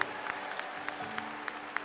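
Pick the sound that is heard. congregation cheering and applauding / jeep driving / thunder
congregation cheering and applauding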